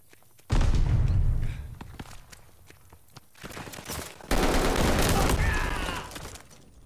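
Gunfire in Call of Duty free-for-all play, with two bursts of loud close shots and impacts separated by quieter footsteps and clatter.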